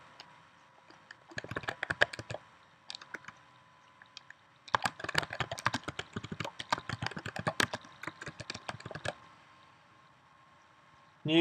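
Typing on a computer keyboard, close and fairly quiet, in two bursts of rapid key clicks separated by pauses, with no talking.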